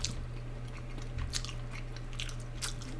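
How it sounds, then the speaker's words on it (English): Someone chews a bite of mozzarella cheese and pig tripe close to the mic, making soft wet crunches and squishes in an uneven rhythm over a low steady hum, with no talking. "Last bite of cheese and pig tripe."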